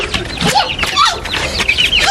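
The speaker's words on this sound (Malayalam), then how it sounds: "പാവം കോഴിയല്ലേ" Several short chicken clucks and squawks, fairly close and lively, from a single agitated hen, with brief gaps between calls and no talking.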